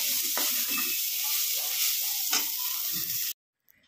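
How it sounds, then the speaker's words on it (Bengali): Cauliflower and potato pieces frying in a pan give a steady, close sizzle with occasional stirring scrapes, ending abruptly in silence. "এদিকে ফুলকপি আলু ভাজা বসিয়ে দিয়েছি, আর এইদিকে দুটো টমেটো এখন পোড়ানো হচ্ছে"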